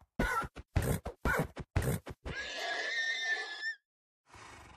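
In Minecraft, a horse gives a series of choppy snorting bursts followed by a long, rising whinny, then a faint hiss of background noise.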